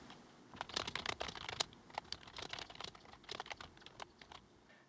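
Typing on a computer keyboard, fast irregular clusters of light key clicks heard up close with brief pauses between bursts.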